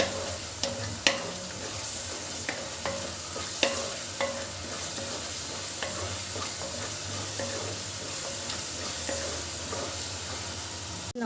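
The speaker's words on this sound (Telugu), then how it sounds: "ఇప్పుడు బాగా కలుపుకోవాలి." Masala and onion paste being stirred in a pan while cooking prawn biryani, with steady sizzling and frying under repeated scraping knocks of a spoon against the pan, plus some faint running water.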